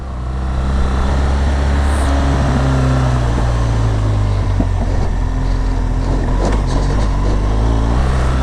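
A heavy GS adventure motorcycle is ridden on gravel through open landscape, its engine droning loud and steady with wind rush and crunchy road noise throughout.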